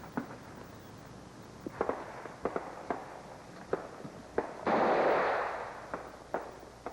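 C7 rifles fire single sharp cracks during Canadian Forces field trials, spaced irregularly and somewhat distant, with a longer whooshing burst midway.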